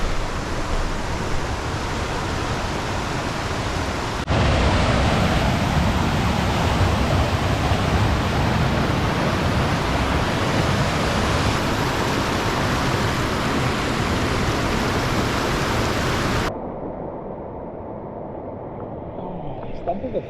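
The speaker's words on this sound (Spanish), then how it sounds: "Y aquí hay como unos rápidos a partir de aquí." River rapids rush over rock and fine white sand in the Mountain Pine Ridge Forest Reserve of Belize, a steady, loud, close roar of churning water that drops noticeably quieter near the end.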